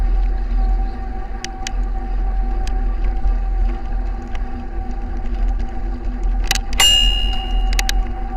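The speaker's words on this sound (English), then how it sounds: "It's very easy to meet oncoming cyclists on this corner, which is why I use the bell." An electric bike's handlebar bell rings out twice near the end on a corner of a lakeside path, with bright metallic dings standing above a steady low hum of riding and wind.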